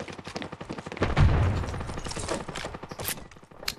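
Rapid rifle fire from P90s and AK rifles rattles through a competitive shooter match, dense overlapping bursts with a heavier booming shot near the middle, loud and close throughout.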